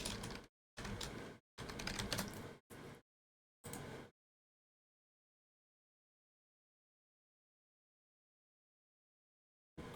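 Typing on a computer keyboard, several quick bursts of clattering keystrokes over about four seconds followed by silence.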